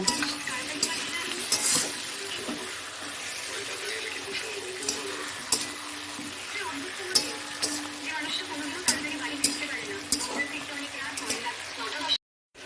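Tomato sizzling in a hot pan for rohu fish curry, a steady frying hiss with occasional sharp clinks and scrapes of stirring throughout, close and moderately loud.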